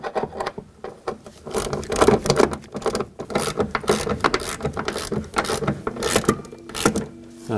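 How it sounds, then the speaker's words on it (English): A ratchet clicks in quick irregular bursts, close and fairly loud, snugging a lower door hinge bolt on a 2012-2017 Toyota Camry with a replacement front upper hinge, with metallic tool clatter between strokes. "I got this lower bolt started, so let's snug it up."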